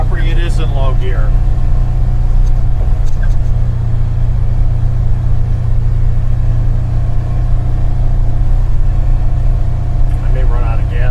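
A Polaris Ranger Northstar utility vehicle drives along with its engine droning in a steady, loud, low rumble throughout, while someone talks over it.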